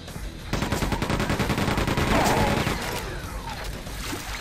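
Rapid automatic weapon fire in the video game Quake 2, a dense, loud burst of repeated shots lasting several seconds with game effects mixed in.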